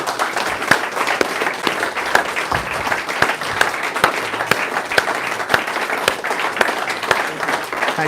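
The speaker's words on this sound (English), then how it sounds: "let's hear the welcome that he deserves and the applause that he deserves" An audience applauds a billiards world championship runner-up at a trophy presentation, steady dense clapping with sharper individual claps standing out, sustained and loud throughout.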